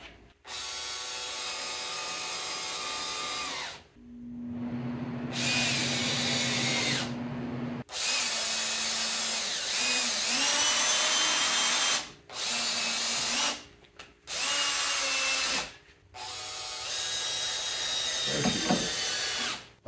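A power drill whirs in several bursts of a few seconds each, separated by short pauses, close by with a whining motor pitch.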